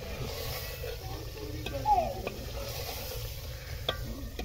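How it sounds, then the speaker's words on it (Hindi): Spinach stirred into meat frying in a pot for village-style palak gosht, a close continuous sizzle with a few scraping spoon strokes and faint background voices. "पालक डाल दी अब बीच में, पालक को मिक्स कर लेंगे"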